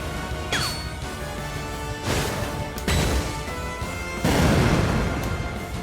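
Blizzard ice attack in Super Mario RPG: a run of crashing, shattering bursts, several loud hits with bright ringing tones between them, building to a heavier, noisier crash near the end.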